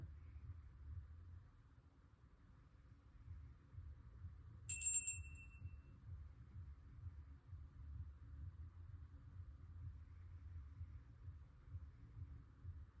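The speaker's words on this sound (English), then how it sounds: "Next time I ring the bell" During a heart chakra yoga practice, a small bell is struck once, giving a single bright ring that fades over about a second above a low steady hum.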